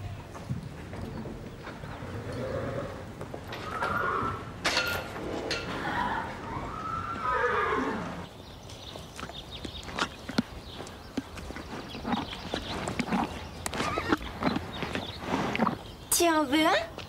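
Hooves clip-clop at a steady walking pace in an animated horse-riding series, and a horse gives a whinny near the end. Characters talk over the first half.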